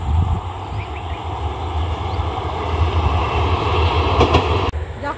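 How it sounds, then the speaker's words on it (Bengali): A train rolls past close by in a rural Bengal village, a loud steady rumble with wheel clatter and a faint high whine, ending abruptly as the last cars clear. "ওই ট্রেন আসছে, ট্রেন আসছে, ট্রেন আসছে"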